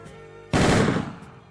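The Isle of Wight Royal Highland Regiment Reenactment Society fires a single loud, sharp musket volley outdoors, the crack decaying over about a second into a rumbling echo.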